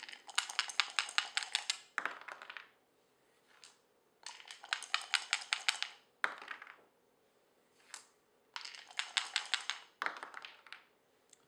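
Precision dice rattle and clatter across a backgammon board in three separate rolls, each a quick burst of sharp clicks and taps. The rolls are close and fairly faint, with brief pauses between them.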